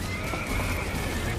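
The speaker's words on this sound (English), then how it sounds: "We need to get the horses out of the barn!" Horses whinny and neigh in a barn during a fire, with a steady roar underneath and faint hoof clatter; the calls are close and loud, continuous across the short moment.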